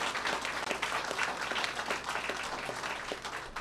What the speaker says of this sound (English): You can clap for Main Street.